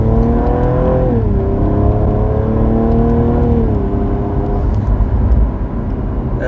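A Cadillac ATS-V turbo V6 engine at half throttle, heard from inside the car as a loud, steady hum that rises and dips in pitch as it shifts, with road noise underneath.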